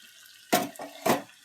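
Tamarind broth poured over fish in a pan, heard as two short liquid splashes about half a second apart, close and moderately loud.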